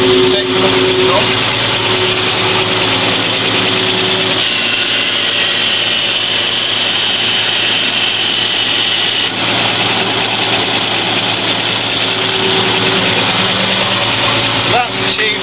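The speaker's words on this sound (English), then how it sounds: "just as a quick demonstration is just show the drum rotating" A Land Rover MKII hydraulic winch turns its drum while the engine runs, giving a steady, loud mechanical drone with constant whine throughout.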